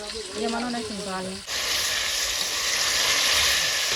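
Onion frying in hot oil with salt for a cashew paneer curry, a loud, steady close sizzle and hiss that takes over after a brief stretch of voice at the start.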